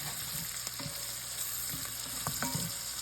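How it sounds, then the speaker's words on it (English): Garlic sizzling steadily in a hot pan for a Southern side dish, a continuous close frying hiss with a few soft clicks of stirring, no voices. "go ahead and add in your garlic. We're going to let this saute in for about 30 seconds or so"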